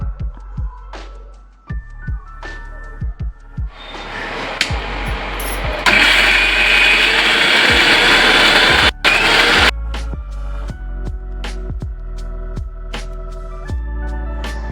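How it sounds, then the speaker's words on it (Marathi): A mixer grinder whirs loudly for several seconds as it grinds roasted spices, its motor roaring up and then cutting off, with music before and after. "हे सर्व मिक्सरमध्ये वाटून घ्यायचे आहे आपणाला"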